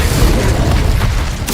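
Incendio fire spell cast in the game Hogwarts Legacy, a deep booming burst of flame with a rumbling low roar that holds for about a second and ends in a brief crackle.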